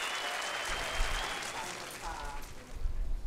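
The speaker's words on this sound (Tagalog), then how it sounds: "bigyan po natin siya ng palakpak" Applause rises from the room at a Senate press conference on an impeachment trial, a steady broad patter of clapping with low thumps and a murmur of voices mixed in throughout.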